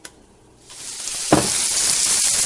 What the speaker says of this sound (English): now we're browning our meat in batches